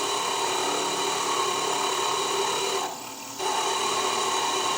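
A diamond drill bit grinding into a stone ball bead, a steady close rasping whine that briefly drops away for a moment before resuming at full strength.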